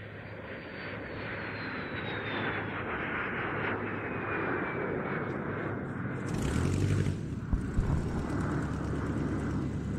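A Panavia Tornado jet flies at an evening air show, its engine roar a loud, steady rush whose pitch slowly falls as it passes, then swells louder and rougher near the end.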